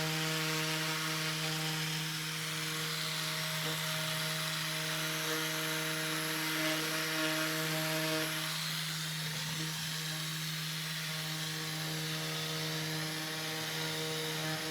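A car paint polisher with a non-aggressive polishing pad works on metallic black paint, giving a steady, even motor whir with constant tones that holds throughout, close and moderately loud with no talking.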